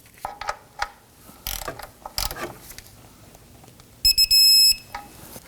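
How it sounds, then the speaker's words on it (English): A torque wrench on a 2018–2024 Toyota Camry 2.5L oil drain plug gives scattered ratcheting clicks, then a quick burst of sharp metallic clicks signals the set torque, heard up close. "We want to go ahead and torque that down to 30 foot-pounds."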